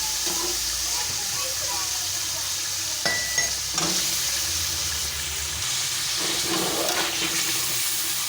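Potatoes and peas go into a pan of frying masala and crackle as they are stirred, a steady sizzle with a few scraping clatters of the spoon, under a voice talking.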